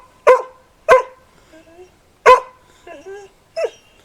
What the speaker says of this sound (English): the dog is speaking.